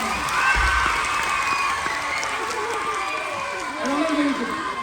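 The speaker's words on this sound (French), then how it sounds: "On peut les applaudir!" A crowd of children at a family show cheers and shouts, with clapping mixed into the noisy, lively din and voices rising and falling throughout.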